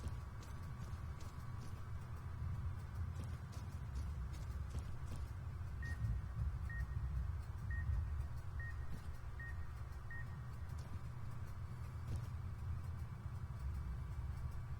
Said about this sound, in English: What's causing the beeping this time?